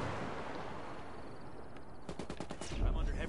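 Gunfire in the video game Ghost Recon, rapid bursts of shots over dense background noise, with a heavier burst of rattling fire toward the end.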